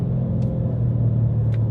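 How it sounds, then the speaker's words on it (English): A Corvette's exhaust rumbles in a steady, deep, close drone with no real rise or fall, and a couple of faint brief ticks are heard over it. "It's the exhaust, dude."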